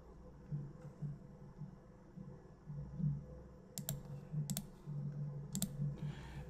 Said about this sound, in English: After that, I'll click the search button